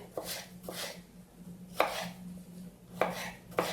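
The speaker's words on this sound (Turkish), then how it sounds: "Evet son patateslerimi de doğruyorum." Potatoes are chopped into small cubes with a knife on a cutting board for a children's fish soup, five or six crisp, fairly quiet knife strikes spaced irregularly over a low background hum.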